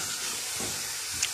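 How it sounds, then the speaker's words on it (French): A pot of Cameroonian eru stew simmering: a brief, steady, hissing sizzle close by, with no talking. "On va laisser mijoter."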